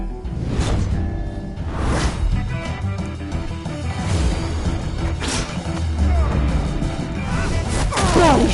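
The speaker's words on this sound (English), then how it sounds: "Body slam." A body slam lands in the Batman Telltale Series game with repeated crashing, thudding impacts and swishes spread across a busy action scene, mixed with voices and background score.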